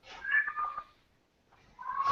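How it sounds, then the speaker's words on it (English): A house cat meows twice, two drawn-out close cries separated by a brief pause, with no talking. "I have a cat that's just meowing"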